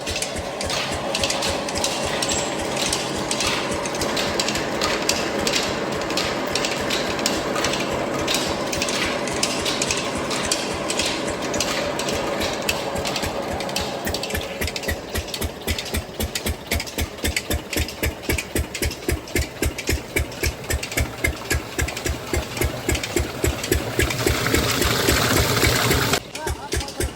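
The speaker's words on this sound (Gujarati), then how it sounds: "વહેલી સવારે મશીન ચાલુ કર્યું કારણ કે ભેંસો પાવાની હતી" An engine-driven water pump runs steadily in a village in the early morning, drawing water for buffaloes, with a rapid, regular chugging pulse that shifts slightly in pace partway through.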